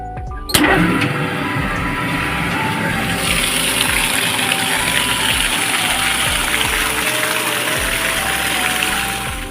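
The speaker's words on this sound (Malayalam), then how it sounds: "ഇപ്പോൾ ഒരു മോട്ടോർ പേരിൽ മോട്ടർ അടിച്ചിടും" An electric water pump motor at a Kerala paddy field starts with a sharp click, then a loud, continuous gush of rushing water with the motor's hum running steadily beneath.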